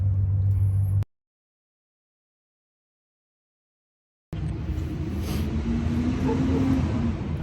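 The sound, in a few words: traffic on a busy highway nearby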